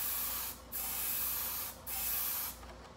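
Aerosol spray paint hisses onto an RC car body in three steady bursts separated by short pauses, close and fairly quiet, with no voices.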